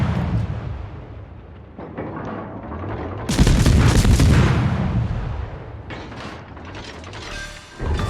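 Naval guns boom in a World of Warships battle, with heavy broadband blasts and a loud sustained roar around the middle, set against clanking mechanical game noise and continuous engine rumble.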